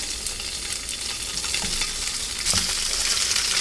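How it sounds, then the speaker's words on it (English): Steady hissing sizzle of tofu frying in a hot pan, close up, with a few clinks and a brief louder surge near the end. "I like to heat up the pan a little bit so you get that sizzle when you put the tofu in."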